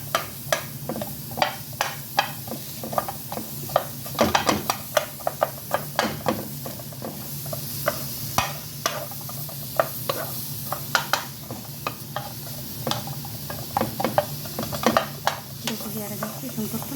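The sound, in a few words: onions frying and sizzling in a pan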